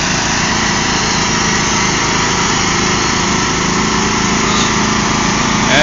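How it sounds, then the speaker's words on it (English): A lawn mower engine with its blades engaged runs loud and steady beside a backyard fence, holding a constant droning hum with a faint rhythmic pulse throughout. "this time turns on the mower. Well, the blades of the mower anyways."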